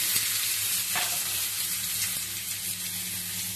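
Vegetables sizzle and fry steadily in a hot pan as the first step of a chicken kabab, a continuous close crackle with occasional stirring clicks and no talking.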